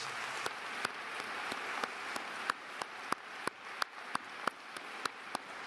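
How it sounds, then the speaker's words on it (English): Sparse, scattered hand claps ring out at irregular intervals at a university commencement ceremony, each a sharp crack over a quiet background, like a thin round of applause. "Let's have a round of applause"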